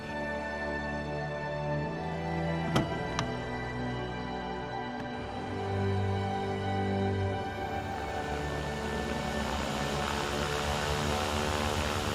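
Propeller aircraft in flight during a descent, a steady droning engine and airscrew hum with strong harmonic bands running continuously throughout, heard from nearby without talk.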